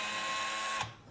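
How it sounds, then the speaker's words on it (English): An electric screwdriver fitted with a T10 torx bit unscrews a Fellow Espresso Series 1 machine during teardown, giving a steady close motor whir that cuts off abruptly near the end. "having the electric screwdriver or the drill here is just a game changer"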